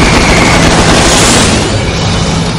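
Six MiG-15 fighter jets roar overhead with cannons firing, a loud, dense continuous rumble with rapid booming bursts that slowly eases.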